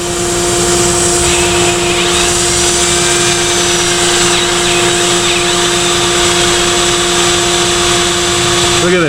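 A drill with a 1/4 inch bit whines steadily and loudly without a break, up close, while fitting a boost gauge on a VW Jetta 1.8T. The motor pitch stays even and drops away only at the very end.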